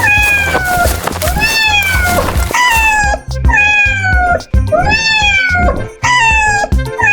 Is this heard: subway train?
no